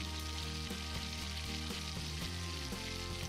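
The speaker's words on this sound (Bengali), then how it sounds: "কড়াইতে সর্ষের তেল গরম করতে দিয়ে দিয়েছি এবং তার মধ্যে দিয়ে দিয়েছি আগে থেকে কেটে রাখা আলুর টুকরোগুলি।" Cut potato pieces fry in hot mustard oil in a kadai, giving a steady close sizzle that continues without a break, with a constant mechanical hum beneath it.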